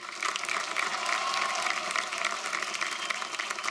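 Loud, sustained applause from a TV reality show studio audience during an antakshari singing competition, a dense steady wash of clapping lasting throughout with no talk.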